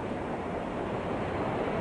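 A train rolls past in a steady, continuous low roar that fills the short stretch evenly, loud and broadband, with no talk over it.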